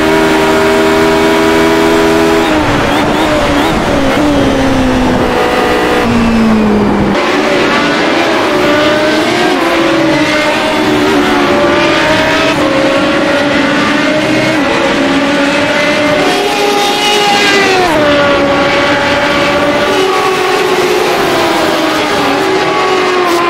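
Radical SR8 race car engine at Oulton Park in iRacing, loud and continuous, revving up through the gears with a downshift and falling pitch before climbing again, alone without talk.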